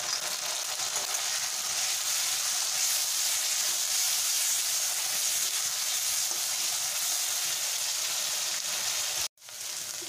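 Grated medium onion frying in a pan, a loud, even, steady sizzle and hiss that holds throughout and cuts off briefly near the end.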